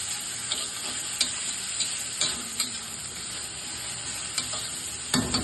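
Onions frying in a pan for a vankaya (eggplant) dish, a steady close sizzle with occasional scraping stirs of the spatula, no voices.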